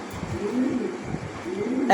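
A pigeon at a breeding farm gives soft, low cooing calls in a couple of short rolling phrases, close by against quiet background noise.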